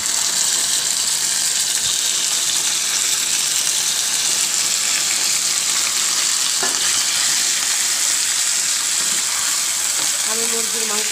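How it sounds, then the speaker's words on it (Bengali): Chicken meat frying in a frying pan with already-fried onions, a loud steady broadband sizzle running throughout with occasional stirring scrapes near the end. "পেঁয়াজটা ভাজা হয়ে গেছে, আমি মাংসটা দিয়ে দিচ্ছি।"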